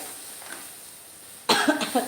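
A short burst of coughing from spice tempering fumes breaks a quiet background near the end, close and fairly loud, a few rough hacks in quick succession.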